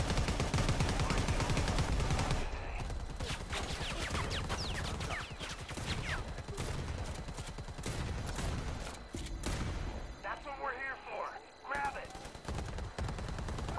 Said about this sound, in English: I'm just shooting, okay?